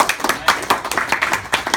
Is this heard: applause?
yes